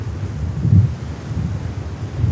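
Steady, low buffeting wind noise rumbles against a microphone outdoors at JFK airport, continuous and fairly loud with no other clear sounds.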